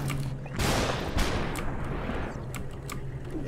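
Gunfire in the slow-motion shooter SuperHot, with several sharp loud gunshots as broadband bursts that fade into a brief rumbling tail, followed by lighter clicks.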